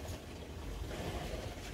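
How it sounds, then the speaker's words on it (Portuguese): Water running into a household machine, a steady, dense gushing rush with a low rumbling body, continuous and close for the whole short stretch. "Barulho de água."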